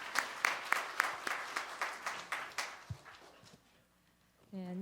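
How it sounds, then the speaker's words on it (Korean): A church congregation at a Christmas service claps together in a brief rhythmic round, evenly spaced claps fading out after a few seconds, followed by a voice starting to speak. "다 같이 박수하겠습니다"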